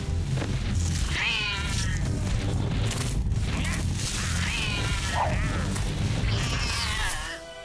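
A cartoon cat gives drawn-out meows, three rising-and-falling calls spread over several seconds, heard over busy animated-show music and effects.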